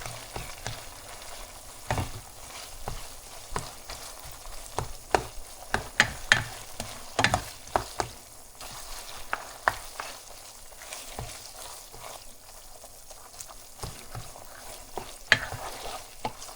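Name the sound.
ground beef frying and being broken up on stove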